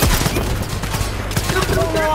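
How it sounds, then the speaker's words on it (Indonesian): Rapid volleys of gunfire ring out in the Roblox game War Machine, loud and close, with dense, repeated shots rattling throughout and a faint voice in the background. "Tembak guys, ada yang di atas ini penembak situ coy."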